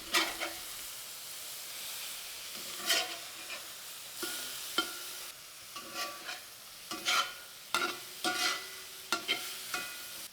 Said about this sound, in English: Now you want to seal that pork round on a high heat.